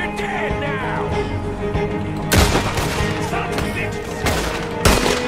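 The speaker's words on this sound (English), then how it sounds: "Bam, he hid behind the rock as soon as I shot him." Gunfire in Red Dead Redemption 2: a few loud, sharp shots ring out, one midway and another near the end, over a steady bed of game ambience and music.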